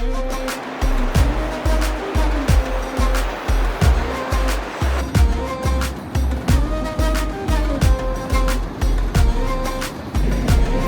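Atlantic ocean waves roll in and break steadily on a wild sandy beach with rocks at Legzira, Morocco, a continuous rushing wash with rhythmic surges and deep low rumble.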